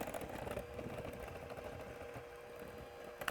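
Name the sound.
electric mixer beaters stirring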